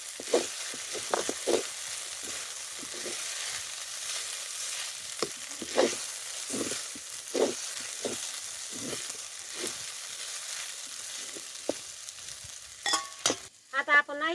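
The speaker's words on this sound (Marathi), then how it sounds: "शाबू टाकून तळसून घेतलाय" Sago pearls fry in ghee in a pan with a continuous, fairly loud sizzle, broken by scattered spatters and stirring scrapes, plus a few sharper clatters near the end; no voices.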